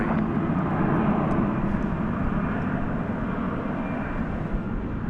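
An old MD airliner, 41 years in service, taxis and turns at night at DFW airport, giving a steady, broad engine rumble and whine that stays fairly even and moderately distant throughout, with no talk.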